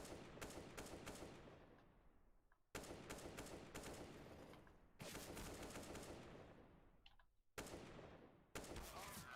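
Gunfire from the mobile game PUBG Mobile, with an AKM in use during a match, rings out as long sustained automatic bursts broken by brief gaps, loud and dominant throughout.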